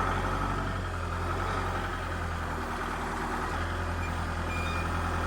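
Tractor with a backhoe idling and working as it climbs a pile, its engine a steady low rumble under rhythmic reversing beeps that repeat throughout at moderate distance.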